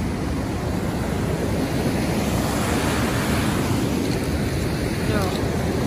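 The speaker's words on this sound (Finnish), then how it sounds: "tuolla on jokea" River water rushes steadily past a rocky bank beneath a cliff outdoors, a dense, continuous broadband roar with some wind buffeting the microphone and no voices.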